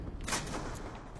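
Weapon explosion in the video game Black Ops 2, a single sharp blast with a brief rumbling tail, loud and close, no speech over it.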